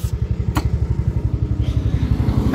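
A motorcycle idles close by with a loud, steady, rapid putter of even pulses, alone and with no talking.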